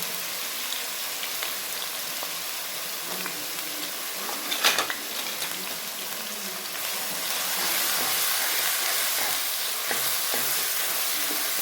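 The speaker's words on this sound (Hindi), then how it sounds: "इसको अच्छे से हम भूनेंगे।" Chopped tomatoes, ginger, garlic, green chilies and onions frying with spices in a pan for kadhi pakora, a steady close sizzle with brief stirring clatter and no talk.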